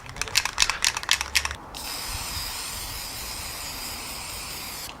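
A spray paint can hisses onto a cheap cotton shirt, preceded by a few rapid rattling bursts, then one long, steady, moderately loud spray lasting several seconds before stopping.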